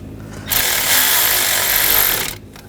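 A power tool runs in one steady, loud burst of about two seconds while snugging down bolts on the engine of a 2009-2017 Volkswagen Tiguan 2.0L four-cylinder, starting and stopping abruptly.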